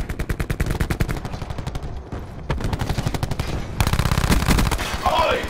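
Rapid machine-gun bursts from Call of Duty: Black Ops 4 multiplayer, loud and close, firing in quick rhythmic volleys with a brief pause midway before heavier fire resumes.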